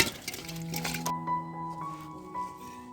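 A lid set onto a cooking pot for a village-style shing fish curry: a couple of light metallic clinks that leave a ringing tone fading over a few seconds, with faint background noise and no talk.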